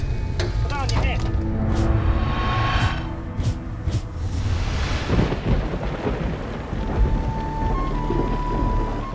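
Heavy storm with rolling thunder and steady rain pounding down, a loud continuous wash with rumbling bursts throughout, part of a hailstorm; voices are faintly mixed in.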